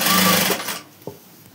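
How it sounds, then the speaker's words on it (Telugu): A sewing machine stitches pleated fabric for a semi-patiala, a brief close whirring run of stitching that stops after under a second and is followed by a single soft click. "ఇలా చూసుకొని నీట్గా కుట్టు అనేది వేసుకుంటారండి."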